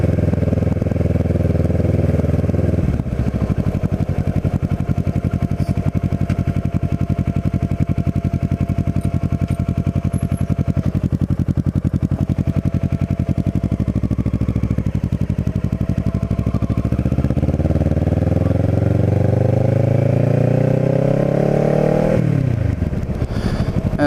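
A Kawasaki Ninja 650r motorcycle rides through a small seaside town, its engine droning loud and steady throughout, with gear shifts audible as dips and pitch rising again as it accelerates near the end.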